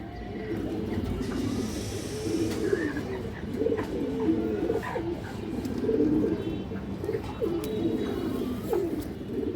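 Army breed pigeons coo in soft, low, repeated throaty calls, several birds overlapping close by, with faint background hum.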